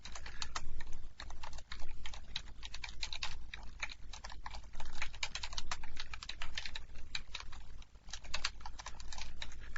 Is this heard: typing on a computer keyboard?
yes